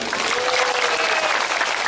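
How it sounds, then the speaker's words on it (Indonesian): A crowd at a religious gathering in Purwodadi applauds an honored guest, loud continuous clapping filling the space from start to finish. "Tepuk tangan untuk beliau."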